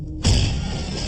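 Dramatized bomb explosion aboard a Philippine Airlines airliner: a single loud, close blast bursts in after a moment of quiet, then a dense roar of rushing air and rumble carries on.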